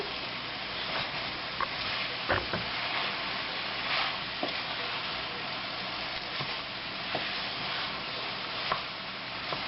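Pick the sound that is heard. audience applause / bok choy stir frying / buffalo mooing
bok choy stir frying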